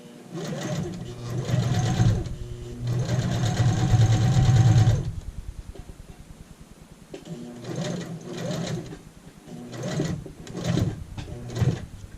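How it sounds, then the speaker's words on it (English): A sewing machine runs an edge stitch along an apron in bursts, a close whirring hum with a rapid needle rhythm, pausing between runs while a person talks. "So now we've done our edge stitch on the whole thing."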